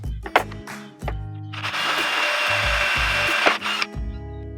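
A power drill bores holes through pipe in a workshop, spinning up into a loud, sustained whine for about two seconds before winding down, with short tool knocks and handling sounds before and after.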